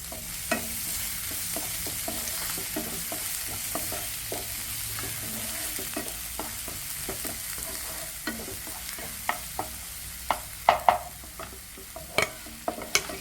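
Onions tossed into hot oil for a Kerala banana-leaf wrapped fish fry sizzle steadily while a spoon clinks and scrapes the pan in frequent short taps, a few louder knocks near the end.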